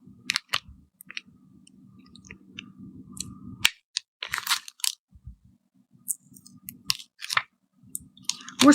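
Heat transfer vinyl being weeded, with excess vinyl peeled away in scattered crackling, sticky tearing and clicking sounds, close and fairly quiet with a faint hum underneath.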